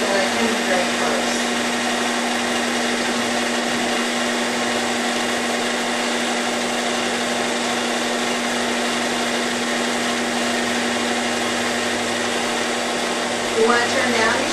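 Sewing machine stitching appliques with an Appliguide: a steady, continuous mechanical motor whir with a fixed hum, holding at an even level throughout with a brief bump near the end.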